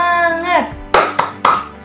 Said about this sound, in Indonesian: kita tepuk semangat dulu nih, biar lebih semangat